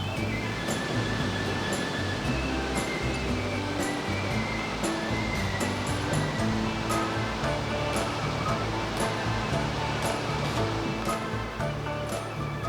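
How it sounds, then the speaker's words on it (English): A steady, dense rush of falling water fills the scene continuously without pause, with faint scattered bird chirps above it. "listening to the waterfall and soaking up the warmth of the sun"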